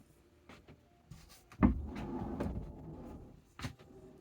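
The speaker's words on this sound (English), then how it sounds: "Got my barn door." A sliding barn door on a tiny house bathroom rolls along its track, with a heavy thud and a rumbling slide, then a smaller knock near the end, in a quiet room.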